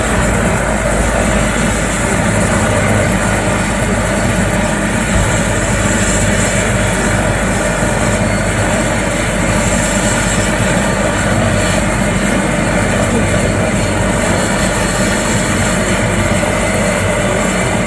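Helicopter joyride engine at the Maha Kumbh in Prayagraj, a loud, steady rotor and engine roar that holds without a break, with no talk over it.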